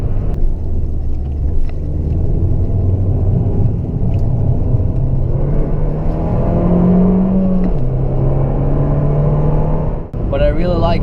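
An Abarth 695 Esseesse engine revs loudly and continuously from inside the car, a steady droning roar that climbs in pitch then drops as the gears change, with the cabin filled by engine noise throughout.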